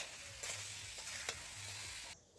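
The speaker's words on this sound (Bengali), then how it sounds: "এই যে এইদিকে হচ্ছে মাংস কষানো হচ্ছে এখন" Meat sautés in a pan while being stirred, a short stretch of close sizzling with scraping strokes that cuts off just before the end.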